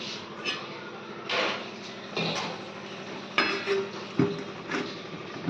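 A metal lid clanks onto a cooking pot of vegetable and fish curry, several sharp clinks and scrapes at irregular intervals over a low steady background, fairly close.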